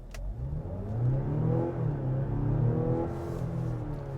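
A 2025 Mazda CX-70 PHEV SUV engine revs up and accelerates steadily from a stop, its mid-pitched roar building and holding close by with no talking.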